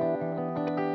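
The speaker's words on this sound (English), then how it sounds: "until I pick the strings a bit harder, and then it just suddenly distorts" An electric guitar plays through a homemade pedal that drives a high-voltage neon tube for distortion, giving a loud, sustained, harmonically rich tone with a few picked accents and no talking.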